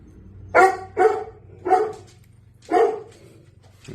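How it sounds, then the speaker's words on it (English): Several dogs bark in short bursts, about five loud barks spaced unevenly, fairly close. "Pardon the dogs."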